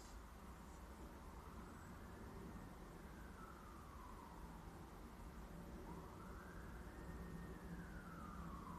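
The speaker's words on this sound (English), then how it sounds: "Sirens, wonder what we got going on." Emergency vehicle sirens wail faintly in the distance on a highway, two slow rising and falling sweeps over a low, steady rumble of traffic.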